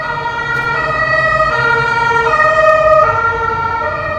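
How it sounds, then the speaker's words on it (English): A wailing siren sounds continuously and loudly, its pitch rising and falling in a steady cycle over traffic rumble. "Maybe you hear the siren."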